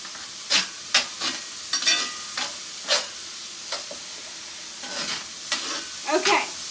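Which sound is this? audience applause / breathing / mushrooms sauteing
mushrooms sauteing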